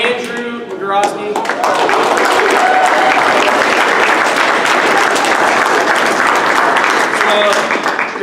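A banquet crowd at a wrestling team dinner breaks into loud, continuous applause, dense clapping holding steady for several seconds, with a few voices heard over it at the start and toward the end.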